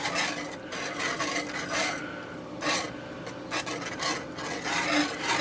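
A utensil scrapes and rubs repeatedly around a pot while flour slurry is stirred into hamburger gravy, giving a rhythmic rasping that swells and fades in uneven strokes, close up with no talk.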